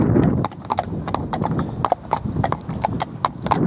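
Horse hooves clip-clop steadily along a road during a leisurely ride. The strikes are crisp and close, with a light rhythmic gait over a low rumble of outdoor background.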